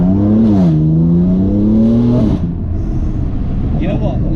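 A 560 bhp BMW M3 engine revs, climbing steadily in pitch for about two seconds before dropping back to a rough, rumbling idle, loud and close.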